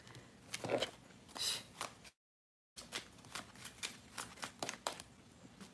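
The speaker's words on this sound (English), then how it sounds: "You see me shuffling the deck" Tarot cards riffle and snap in quick bursts, a deck shuffled several times close by, with a short silent gap partway through.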